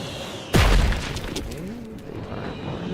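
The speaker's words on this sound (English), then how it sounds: "Mortar fire! Move!" A heavy mortar explosion in The Outer Worlds 2, one sudden deep boom with a long rumbling decay, followed by a lingering low roar and background combat noise.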